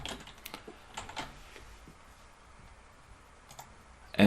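Password keys tapped on a computer keyboard, a quick scatter of light clicks and taps spread over a few seconds in a quiet room, with a louder knock at the very end.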